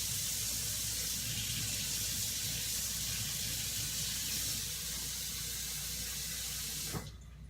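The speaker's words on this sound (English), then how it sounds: "I'm going to fill it with warm water because my water's cooled off" Warm water pours from a tap into a pan for soaking spring roll rice paper, a steady rushing hiss that runs for several seconds and then cuts off abruptly near the end.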